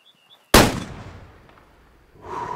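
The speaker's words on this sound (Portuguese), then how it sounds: "Vou tentar dar um disparo próximo dele agora com o Stinger .22 para ver se ele vai espantar o animal." A Stinger .22 rifle fires a single loud, sharp shot in the hunting video game Way of the Hunter, followed by a decaying echo tail across open terrain, with faint ambient game sounds before and after.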